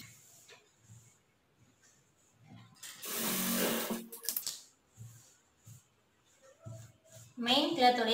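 A sewing machine stitches a nightgown in a short burst of rapid mechanical whirring midway, alone between stretches of soft speech, with a brief scraping or rustle of fabric near the end.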